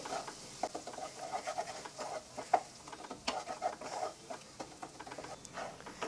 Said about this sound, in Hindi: एक से दो मिनट के लिए ये ग्रेवी को हम भून लेते हैं